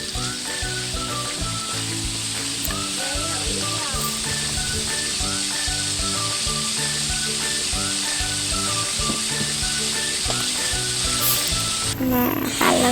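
Aceh-style fried rice sizzles loudly in a hot pan after soy sauce is added, with a constant close frying hiss and scraping stirring strokes throughout.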